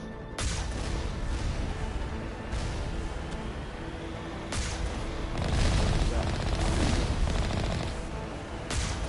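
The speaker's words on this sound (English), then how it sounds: "Rockets galore, guys. That's the rockets." Rockets exploding in Mass Effect Legendary Edition on Peak 15, several heavy booming blasts landing one after another over a constant roar of combat, loud and close.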